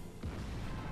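A tank cannon fires in World of Tanks, a dull broadband boom that swells in about a quarter second and rumbles on through the rest of the brief moment, loud and close.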